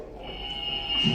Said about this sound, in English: So should we test our buzzers, Andrew? Yvonne? Rob?